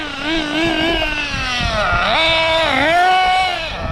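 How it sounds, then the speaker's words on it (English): A nitro RC buggy on a Dynamite 21 engine runs close by, its high buzzing whine rising and falling as the throttle is blipped and revved, steady and loud throughout. "Dynamite 21 engine runs perfect. Holds a tune really well."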